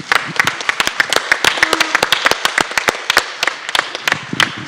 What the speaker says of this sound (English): give a, a, round of applause to Veronica and to Matea because they are fantastic